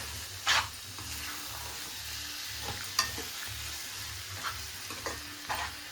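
Raw mango pickle being stirred and mixed with spices, a steady scraping stir with a few sharper clinks of the spoon against the bowl, close and fairly quiet, no voices.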